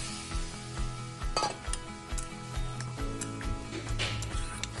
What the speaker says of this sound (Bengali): এরপর ফুলকপি আলু তরকারিটা এতে দিয়ে দেব।